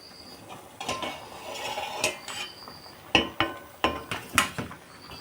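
A lid goes onto a metal pot of boiling pumpkin pieces on the stove, a run of sharp metallic clinks and clatters, some sharper knocks toward the end, close with no talking.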